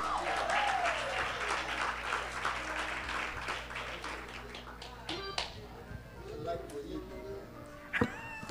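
Audience applause for a speaker at a church conference, a dense burst of clapping that thins into scattered claps and fades out, with a few sharp knocks near the end.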